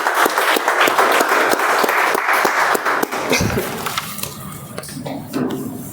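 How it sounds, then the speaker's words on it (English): A small club meeting audience claps for a toastmaster, loud, close, individual claps in a quick rhythm that fade after about three seconds, followed by softer room noise and a faint voice. "Please give a round of applause for Toastmaster Saravanan"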